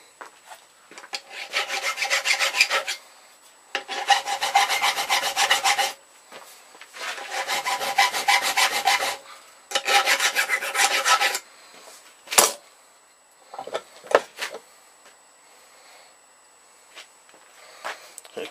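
Hand filing and rubbing on a homemade wooden arrow shaft, shaping and smoothing it: four long, steady rasping bursts of repeated strokes separated by pauses, then a few brief sharper scrapes and knocks near the end.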